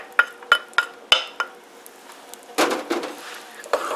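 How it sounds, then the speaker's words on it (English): Butter melting and onions sautéing in a pan on the stove for creamy tomato soup: a few sharp utensil clinks against the pan, then a steady close-up sizzle that swells and continues. "I'm going to melt my butter, and then I'm going to sauté my onions until they're tender."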